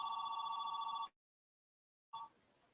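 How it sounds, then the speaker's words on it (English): A landline telephone bell rings loudly for about a second in a steady trill, then goes silent, followed by a short second burst of ringing that fades. "my apologies for the ringing phone"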